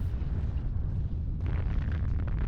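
Distant artillery explosions from a modded video game, a continuous low rumbling boom that swells and rolls without pause across the whole stretch, with sharper crackling bursts layered on top in the later half.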